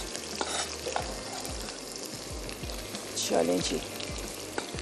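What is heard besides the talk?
onion sautéing in oil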